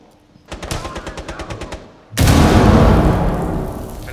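A frag grenade goes off in Rainbow Six Siege after a rapid burst of about ten evenly spaced gunshots, landing as a loud, close blast that booms and then decays into a long rumbling tail.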